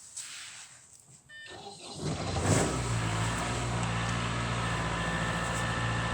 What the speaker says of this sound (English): Then the top right button starts the engine.